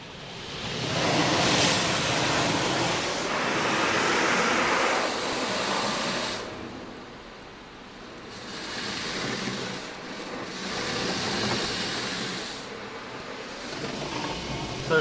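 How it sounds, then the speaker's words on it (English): High-pressure rinse jets spray steadily in a brand-new Ryko Radius automatic car wash, a loud continuous hiss and rush that swells and dips as the nozzles pass over the vehicle. "Now we're doing our high pressure rinse."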